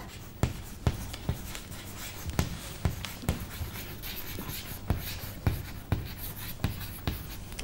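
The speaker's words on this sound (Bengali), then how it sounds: "আমি এখানে লিখে দিচ্ছি" Chalk or marker writing on a board during a biology lesson: a sequence of sharp taps and short scratchy strokes in an uneven rhythm, close and fairly quiet.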